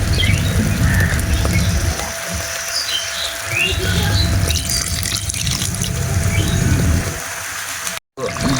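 Water pours into egg biryani gravy in a clay pot, with a low gurgling splash and bubbling, faint birdsong in the background and a brief drop-out near the end.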